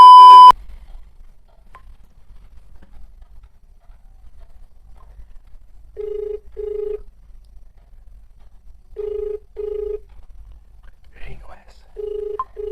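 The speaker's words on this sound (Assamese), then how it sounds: "ৰিং হৈ আছে।" Ringback tone heard through a phone while a call is being placed, paired beeps repeating about every three seconds over a quiet background, clear and fairly close, after a short sound at the very start.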